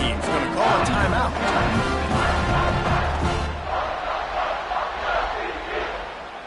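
Stadium crowd roaring at a football game after a scoring drive, a loud continuous wash of cheering and shouting that eases slightly toward the end, with a voice talking over it.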